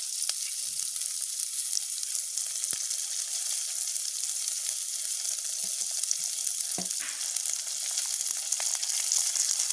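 Fennel seeds fry in hot oil in a pan in a village kitchen, giving a loud, steady sizzle with scattered crackles and pops throughout.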